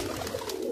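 A brief, faint cooing from a flock of rooftop pigeons, soft and low against a steady background hum.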